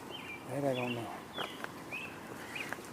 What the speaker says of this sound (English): I'm hearing the robins sing.